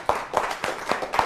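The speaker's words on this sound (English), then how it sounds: "Everybody, clap for Jack!" An audience claps for Jack at an event, with a few slow, separate claps spaced about a quarter second apart, moderately close and fairly quiet rather than a full applause.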